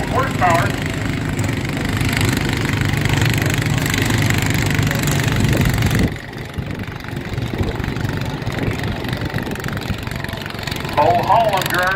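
Small antique 10–12 horsepower garden tractor engine, a classic old John Deere, pulling hard at a fair tractor pull, a loud steady drone that dips briefly midway and then carries on, with crowd voices talking faintly underneath.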